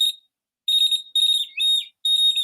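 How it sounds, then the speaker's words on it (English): A high-pitched electronic beam-break alarm beeps in four sharp bursts separated by short gaps, loud and close, with no talking. "and the alarm goes off"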